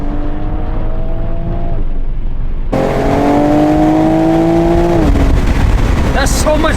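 Toyota Supra A91 CF-Edition engine revs up hard after a downshift into second, a loud rising engine note heard from inside the car, with a brief break and a second sustained pull and some road noise.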